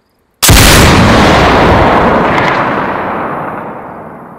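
A single huge weapon blast in DayZ erupts after a moment of silence, then rolls out in a long, loud, slowly fading rumble and reverberation with no voices over it.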